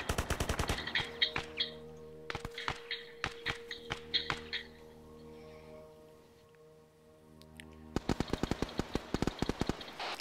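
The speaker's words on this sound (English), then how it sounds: "Are we being shot at from our rear?" Rapid bursts of automatic gunfire in the tactical shooter Project Tension, several sharp volleys in quick succession, then a lull before another loud, fast burst near the end, with no talking.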